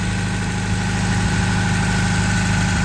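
A Toyota 22RE four-cylinder engine idles steadily with an even low rumble and constant hum, close and unbroken, with no voices over it.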